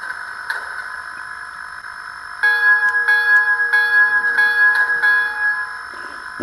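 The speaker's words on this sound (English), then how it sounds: "There's our bell." Locomotive bell from a Soundtraxx Tsunami DCC sound decoder in a brass J-1 model steam engine, ringing in a steady repeating rhythm over a constant electric dynamo whine, moderately loud and close.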